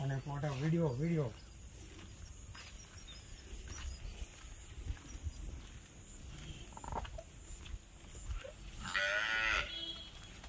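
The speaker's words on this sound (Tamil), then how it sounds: "இந்த மாடு பேர் பார்த்தீங்கன்னா ஷாகிவால்." Sahiwal cows on a dairy farm give drawn-out moos, a loud one at the start and another near the end, amid barn noise and a person talking.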